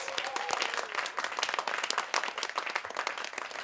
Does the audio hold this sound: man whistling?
no